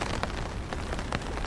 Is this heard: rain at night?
yes